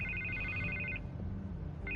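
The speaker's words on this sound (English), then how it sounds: "I can't get the phone to stop ringing." A telephone rings in the Telltale Batman game, two electronic trill bursts separated by a pause and set over a low, steady background hum.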